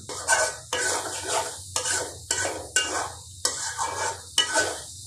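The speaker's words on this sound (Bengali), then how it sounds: "মশলা কষিয়ে নিলাম" Beef liver fries with spices in a pan under steady, rhythmic stirring, each spoon stroke a loud scraping burst over a continuous sizzle, repeating about every half second.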